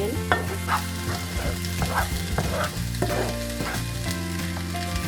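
Red onion roasts in a pan for Malvani kanda khobra vatan. A close, continuous sizzle carries crackles and stirring scrapes over a steady tonal hum in the background.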